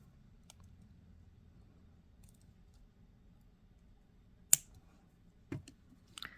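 Trimming the excess cord of a beaded bracelet, a near-silent stretch broken by a crisp scissor snip and a few small clicking cuts near the end, close and quiet.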